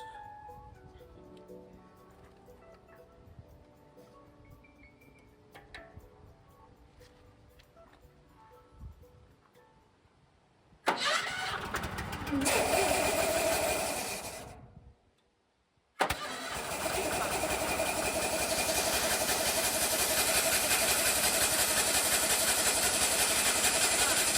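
A firewood processor's engine is cranked over and catches, then settles into a steady, loud, close idle. Faint voices and small workshop noises come before it, and there is a brief silent gap partway through.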